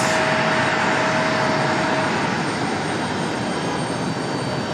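A Piedmont jet airliner sits at the airport ready for takeoff, its engines giving a loud, steady whine and roar with a thin high tone throughout.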